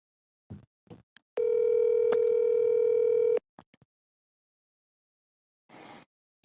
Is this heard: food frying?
no